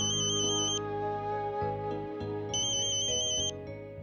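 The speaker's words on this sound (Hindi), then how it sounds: "आई का फोन।" A mobile phone rings with an incoming call, a bright electronic ringtone melody playing in two bursts over a sustained musical background.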